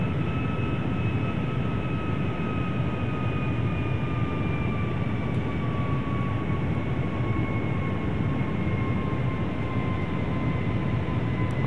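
A QualityWings 757-300 airliner in a flight simulator on approach, engines at high power: a steady, loud broadband jet roar with two faint whining tones gliding slowly downward, continuous throughout with no talk.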